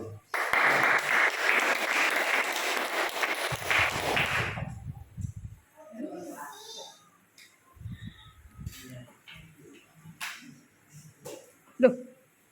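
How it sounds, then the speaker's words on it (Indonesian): Congregation applauding at a church service, a dense loud burst of clapping for about four seconds that fades out, followed by scattered talking voices and small noises. "Tepuk tangan saudaraku."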